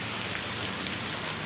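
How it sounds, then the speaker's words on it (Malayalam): Heavy rain falls in a constant dense hiss with close patter of drops, continuous and fairly loud for the whole brief stretch. "ചെങ്ങലട്ട് കുറച്ച് മഴ, നല്ല മഴയാണ്"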